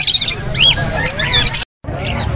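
Wild type lovebirds chirp and squawk at a busy pet market, a dense run of high, close calls that continues almost without pause, cut by a brief silence.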